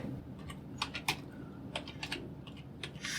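Someone types a prompt on a computer keyboard: quiet, irregular key clicks in short bursts over a soft room hiss.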